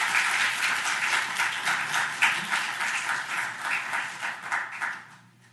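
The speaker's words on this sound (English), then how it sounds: "Let's give a round of applause for Dean Parrish." Round of applause for Dean Parrish at a Dr. King commemorative event, a dense, steady wash of clapping from a sizable audience that thins toward the end.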